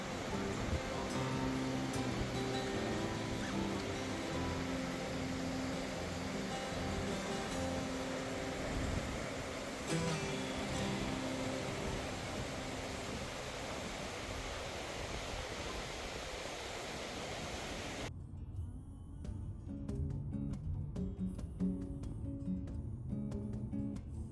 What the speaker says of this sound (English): the water spray creates a heavy mist and the roar submerges all other noises around you